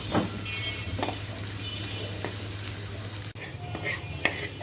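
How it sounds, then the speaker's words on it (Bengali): Spices tempering in a little oil for beef trotter nihari, a steady close sizzle with a few scattered spoon scrapes and a brief drop partway through. "এটা সুন্দর করে একটু ভাজা ভাজা করে লাল করে আমরা ফোড়নটা দিয়ে দেব"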